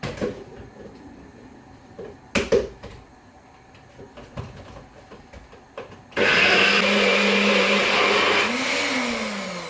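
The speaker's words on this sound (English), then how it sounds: "I'm going to blend this down so it all incorporates into each other" A few clunks and taps, then a blender kicks on loudly and whirs continuously, its motor pitch shifting slightly as it blends.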